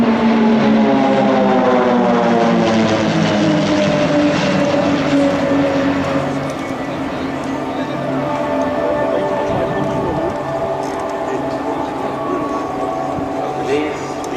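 Pilatus PC-7 propeller aircraft of the Swiss Air Force PC-7 Team fly an airshow display at Kleine Brogel, their engine drone sweeping downward in pitch as they pass, steady and fairly loud, with an announcer speaking over it.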